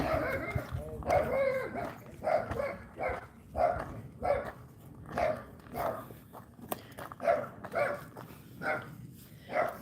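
A dog barks repeatedly at neighbouring dogs in a suburban yard, a steady series of close, loud barks with short yips and whimpers in between.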